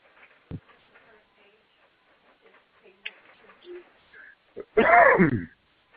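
A loud burst of rough coughing near the end, after a stretch of quiet, faint background sounds.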